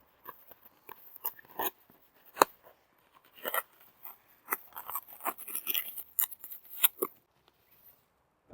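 Scissors cut reflective greenhouse lining in a series of sharp, close snips and crisp crinkling rustles, irregular bursts with short pauses between them and no talking.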